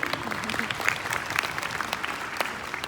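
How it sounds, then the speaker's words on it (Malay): An audience applauds Henry Goh, a sales manager, as he comes up on stage, dense steady clapping throughout with a faint voice underneath. "Satu tepukan kepada Henry."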